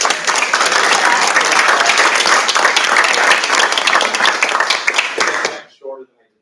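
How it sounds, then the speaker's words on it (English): Audience applause at a school board of education meeting, dense steady clapping from a full room that holds for about five seconds and then tapers off, followed by a brief murmur. "Let's give them one more round of applause"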